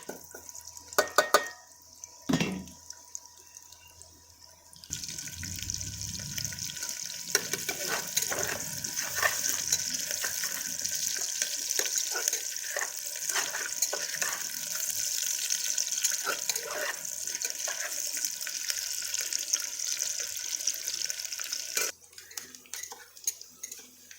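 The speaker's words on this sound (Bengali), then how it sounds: "তেলটা গরম হয়ে গেছে, আমি এর মধ্যে দিয়ে দিচ্ছি।" Chopped onion and green chili hit hot oil in a pan, giving a steady broadband sizzle with clinks of utensils and stirring throughout, the frying loud and close before falling away near the end; no one speaks.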